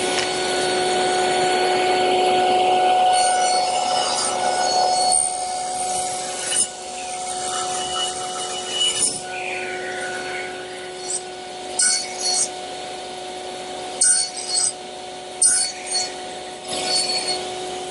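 Woodworking machine making final shoulder cuts to form tenons in wood, a long whirring, rubbing cut with steady tool noise that turns choppy into short bursts in the later seconds, close and without speech.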